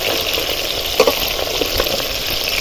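Eggplant fries in hot oil, a steady close crackle and hiss with a few small pops and a light clink of a utensil partway through.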